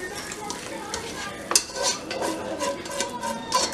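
A spoon scrapes and clinks in a pot, spreading chicken curry over a layer of rice for Pakistani chicken biryani, with soft repeated scraping strokes and one sharper metal tap, close and moderately loud, no talking.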